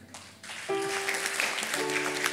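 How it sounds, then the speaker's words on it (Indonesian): A church congregation applauds during a sermon, with steady broadband clapping that swells after a brief start and runs alongside sustained organ-like tones. "Tepuk tangan."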